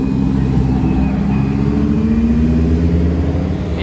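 A Chevrolet Camaro or similar car engine rumbles steadily and loudly at close range on a Monaco street at night, the engine note holding throughout with no speech.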